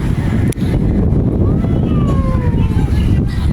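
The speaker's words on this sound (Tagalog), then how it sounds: "Sobrang lakas ng hangin." Strong wind buffets the microphone in a steady, heavy roar at Pico de Pino, with faint distant tones drifting underneath.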